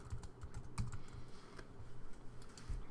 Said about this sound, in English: type the name of your third prep